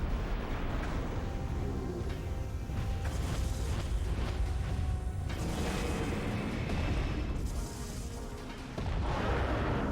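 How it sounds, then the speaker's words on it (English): An explosion in Metroid Prime 3: Corruption, with loud rumbling booms and blasts amid continuous dense game noise and mechanical sounds, a brief dip near the end before the roar resumes. "Explosion near his feet could probably destroy these."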